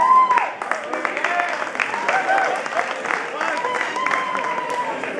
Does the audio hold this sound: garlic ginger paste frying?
no